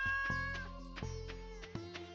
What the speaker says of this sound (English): Say hi to Kitty